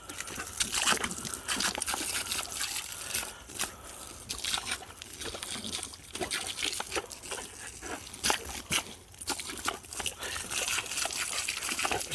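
Water from a garden hose splashing and sloshing continuously nearby, with irregular bursts as the stream hits and scatters, fairly soft with no talk.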